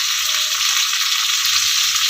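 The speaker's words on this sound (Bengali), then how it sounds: "আমি লাউ পাতা দিয়ে পোয়া মাছের বড়াটা এখন কি করব, ভেজে নেব।" Steady, close sizzle of poa fish fritters wrapped in bottle gourd leaves frying in hot oil, a continuous hiss with faint low knocks underneath.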